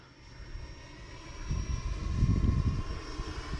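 FMS Rafale 80mm electric ducted-fan RC jet fitted with aftermarket nozzles flying overhead, a steady whining rush that swells louder midway as it passes, heard alone in open air.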